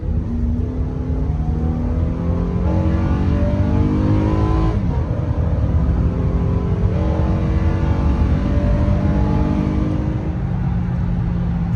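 Honda Ridgeline 3.5 V6 with a modified intake accelerating hard, a loud continuous engine roar climbing through the revs with rising harmonics and a brief dip around a gear change, heard from inside.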